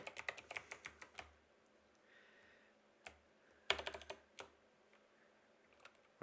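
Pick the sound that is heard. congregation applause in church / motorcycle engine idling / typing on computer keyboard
typing on computer keyboard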